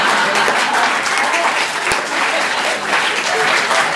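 An audience at a Hindi hasya kavi sammelan comic poetry gathering claps in a loud, dense burst of applause that runs for a few seconds, with a voice faintly mixed in.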